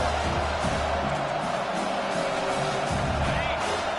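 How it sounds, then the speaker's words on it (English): A home football crowd at Michigan roars in a stadium as the defense faces third down, a broad, sustained wash of cheering with talk over it. "Here comes this home crowd as the defense tries to get off the field on 3rd down."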